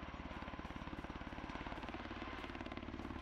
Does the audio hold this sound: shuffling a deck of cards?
no